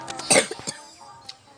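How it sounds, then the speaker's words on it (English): A person coughs a few times in quick succession, close and fairly loud, followed by a softer short cough near the end, with no talk over it. "I have cough."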